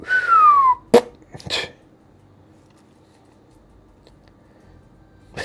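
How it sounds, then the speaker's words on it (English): A single short whistle slides downward in pitch, close by. A couple of sharp clicks follow, then near silence. "Did you hear that whistle?"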